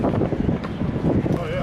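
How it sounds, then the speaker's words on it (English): Strong wind blows across an outdoor fairground at Dayton Hamvention near a dirt horse track, making a loud, steady rumbling buffet against the microphone while someone talks over it. "It is windy, definitely windy."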